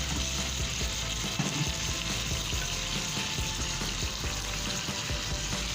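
Onion stir-fried with egg-laden crab in a hot pan, a steady close sizzle and crackle with scraping and clinking from the stirring, no voices.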